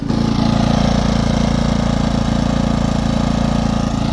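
A gasoline portable generator engine idles steadily with a slight unevenness in its running, a loud, close, continuous drone with no voices over it.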